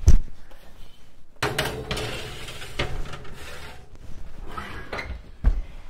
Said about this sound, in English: we're going to place them on the center rack of our oven